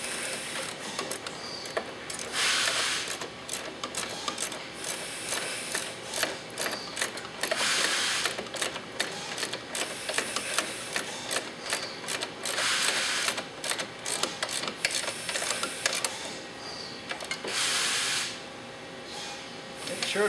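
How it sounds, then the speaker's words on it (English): A ratchet tightening a bolt on a steering arm extender, with long stretches of rapid clicking in repeated bursts, close up and steady, separated by brief pauses. "Tighten it up with the ratchet."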